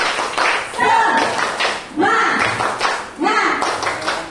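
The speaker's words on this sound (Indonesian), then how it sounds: "Coba kita tepuk semangat dulu. Tepuk semangat!" A group performs a rhythmic spirit clap during a session, sounding as bursts of patterned clapping that return about once a second, with voices calling out between the bursts.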